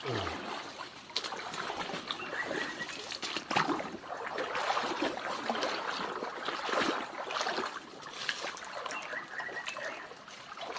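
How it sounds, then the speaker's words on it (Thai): Steady rushing water with splashing and trickling textures, a constant broadband roar like a nearby waterfall, no voices. "เสียงคือน้ำตกเนาะ"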